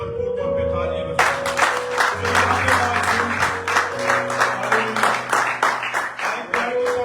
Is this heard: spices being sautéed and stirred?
no